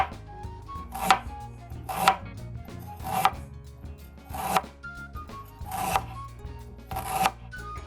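Red onion and ginger being sliced on a board, seven crisp knife strikes spaced about a second apart, close and distinct over a quiet background.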